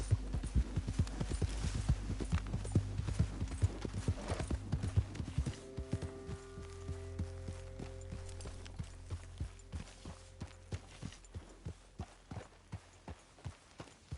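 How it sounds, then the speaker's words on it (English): Horse hooves clip-clopping in Red Dead Redemption 2, a steady rhythmic train of sharp hoof strikes, close and even, over a low droning game soundtrack. "Get that horse away from me!"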